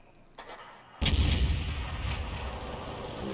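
A GW Panther self-propelled artillery gun fires in a video game battle: one loud, close boom bursts out after a quiet lead-in, then trails into a long, broad rumbling roar with no voices.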